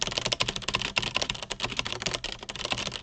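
Fast, continuous keystrokes on a computer keyboard while retyping a 1920 championship typing test, close up, with dense clicks in a brisk, uneven rhythm throughout.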